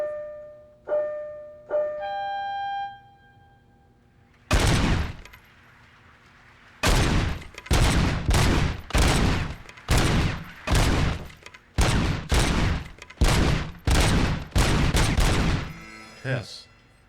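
Repeated bursts of gunfire at a shooting range in the RoboCop Rogue City video game, loud volleys in quick succession after a few tonal beeps, with a short pause before the main string of shots.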